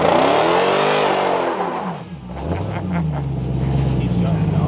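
A Hellcat-powered Jeep Gladiator revs hard during a burnout, the engine note rising and falling loudly before settling into a sustained high roar, with people talking over it.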